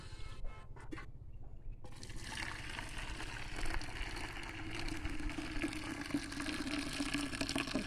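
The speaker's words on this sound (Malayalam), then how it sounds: "കുറച്ച് വെള്ളം ഒഴിച്ചോട്ടെ അതിൽ" Water pours steadily into a container beside a stone grinding slab, a continuous splashing rush that starts after a brief quieter moment and keeps going, close and fairly loud.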